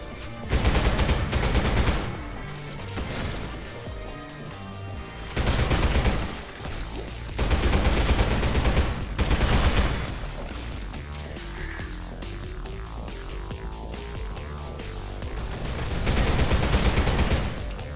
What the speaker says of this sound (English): I don't see anyone who's shooting at me.